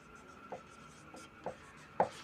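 Pen writing by hand during a Class 10 physics lesson on light, reflection and refraction, with faint scratchy strokes and a few sharper taps at uneven intervals over a quiet background.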